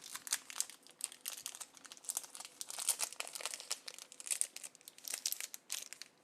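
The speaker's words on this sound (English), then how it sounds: "These packs are, the plastic doesn't rip as easy. So you hear more crinkling." The plastic wrapper of a Magic the Gathering card pack crinkles and crackles in a close, dense flurry of sharp rustles as it is handled and torn, with no talking.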